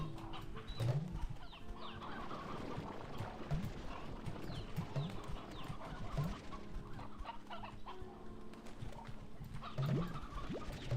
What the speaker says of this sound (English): Give me all these briar hens.